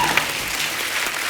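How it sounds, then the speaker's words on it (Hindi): Applause from a studio audience at a Hindi comedy talk show, a dense burst of clapping that fills the short moment. "एक बार जोरदार तालियां हो जाएं"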